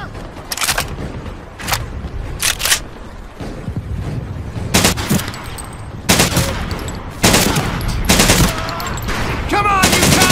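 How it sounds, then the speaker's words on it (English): Rifle and machine-gun fire crack out in bursts during a Pacific island battle in the Medal of Honor: Pacific Assault video game, loud and close, with shouting voices between volleys. "He's shooting!"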